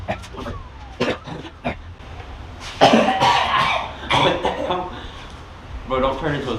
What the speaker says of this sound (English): you weren't coughing like this inside